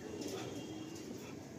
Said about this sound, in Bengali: আচ্ছা, এটা মাদি পায়রা হচ্ছে।